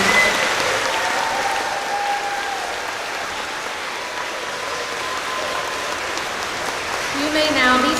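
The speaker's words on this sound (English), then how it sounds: "Can we give a round of applause to Greenwood Arms?" Sustained audience applause at an elementary school Veterans Day program, steady and fairly loud, with faint voices and tonal sounds rising near the end.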